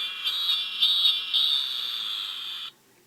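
A Transpod toy plays an electronic cicada sound: a steady, loud high-pitched buzzing drone with slight pulses that runs for over two seconds, then cuts off abruptly, with no talk.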